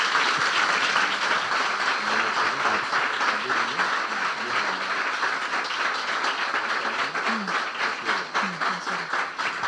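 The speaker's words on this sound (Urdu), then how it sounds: "اگر آپ کو برکت مل رہی تو یسوع کے جلال کے لیے زوردار تالیاں بجا دیں." A church congregation applauds loudly after a sermon, a thick, continuous roar of many hands clapping in a reverberant hall, with faint voices beneath and the clapping gradually thinning toward the end.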